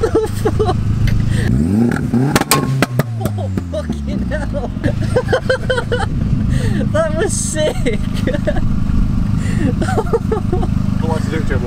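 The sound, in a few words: project car revving with straight-through exhaust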